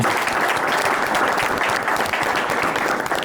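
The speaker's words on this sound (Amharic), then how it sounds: "አጨብጭቡለት።" An audience claps throughout at a lively Saturday-afternoon entertainment show, with dense, steady applause filling the whole moment at close range and no talking over it.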